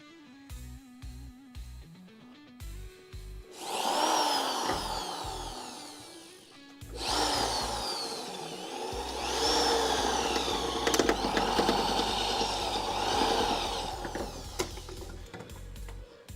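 An electric drill bores out a spot weld in the rusty sheet metal of an old Dodge Crew Cab Charger. It comes as two long, close, whining bursts with a rattly grind, after clanks and handling knocks, and nobody speaks.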